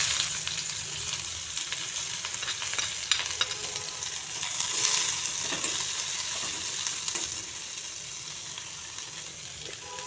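Chopped onions frying in a pan for a taro leaf paste dish, with a soft, steady sizzle and occasional stirring scrapes, at moderate volume and with no voices.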